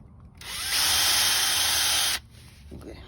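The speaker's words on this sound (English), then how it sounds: "I'm going to drill holes right here" A power drill with a 1/4 inch bit bores into a hard tree stump beside a house foundation, one loud high whining burst of about two seconds that starts and stops abruptly, close by.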